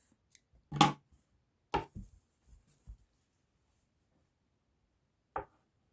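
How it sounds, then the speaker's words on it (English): Two or three crisp snips of scissors cutting embroidery thread after a stitch is tied off at the back of the fabric, a sharp cut near 0.8 seconds, more near 1.8 seconds, soft handling rustles, and one last snip near 5.4 seconds in a quiet room. "then you can snip it off"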